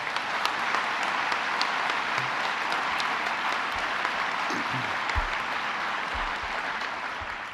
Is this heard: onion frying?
no